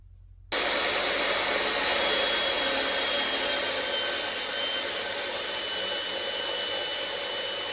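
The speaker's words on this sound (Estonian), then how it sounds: "ma tõesti tahaks seda kiilu saagida sellest" Steady, continuous rasping of a saw cutting a wooden wedge during stone barn renovation, close and fairly loud, running without pause after a brief quiet start.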